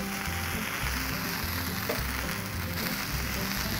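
Hamburgers and fries cook on a Blackstone griddle with a soft, steady sizzle close by, under a low background hum and no talking.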